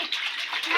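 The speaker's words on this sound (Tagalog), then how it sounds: "Dagdagan natin ng tubig." Bath water pours into a tub as a steady, close, loud rush that fills the whole short moment, with a voice faintly mixed in.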